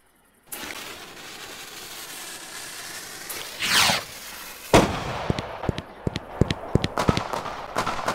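Video-game fireworks burst and crackle over a steady background hiss, with a rising whistle, then a big boom followed by a rapid scatter of sharp pops.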